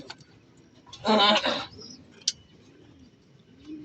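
A single burst of soft cooing from a racing pigeon, close by, followed by a brief chirp, against a quiet background.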